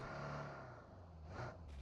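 A car engine hums in the mobile battle-royale game PUBG Mobile as a vehicle arrives, a short, fairly quiet motor drone that rises slightly before it ends.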